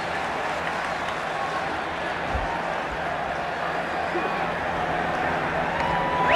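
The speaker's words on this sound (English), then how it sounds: "this crowd wild with delight and with anticipation" A capacity crowd roars and applauds at a Miami ballpark as the first Major League pitch is thrown, Los Angeles Dodgers at Florida Marlins in 1993. The steady wall of cheering swells slightly toward the end.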